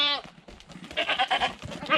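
A South African Boer goat buck on an Australian goat stud bleats in several loud, wavering calls: one opening cry, then a longer run of bleats later on, with no talking.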